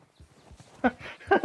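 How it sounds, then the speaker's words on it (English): Horse hooves clip-clop in Red Dead Redemption 2 Online on a snowy mountain hunting trip, a few soft steps followed by two louder, closer hoof impacts. "easy horse, easy horse, easy, easy, easy, girl."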